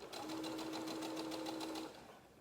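A sewing machine stitches fabric in a short close burst, a steady rhythmic motor hum with fast stitch pulses lasting under two seconds before stopping.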